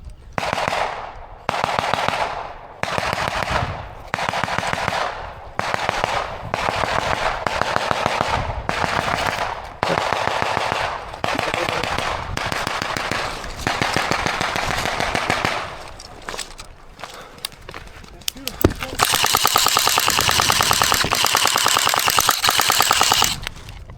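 Airsoft guns fire in a skirmish, with repeated bursts of rapid automatic shots in a regular on-off rhythm, loud and close, ending in a long sustained volley.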